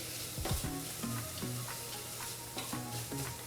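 Onions, ginger and garlic sauté in a pan for vegetarian hot and sour soup, a soft steady sizzle with rhythmic scraping strokes of a spatula stirring close by, with no voices.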